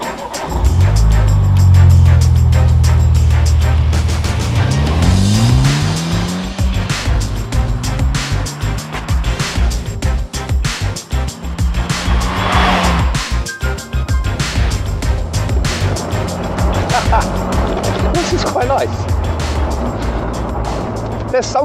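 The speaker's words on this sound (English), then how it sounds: "Next, we're going to head out in this, the Morgan Plus 4." A Morgan Plus 4 sports car driving, engine revving up through rising gear pulls and settling into a steady loud drone with wind and road noise, under voices talking.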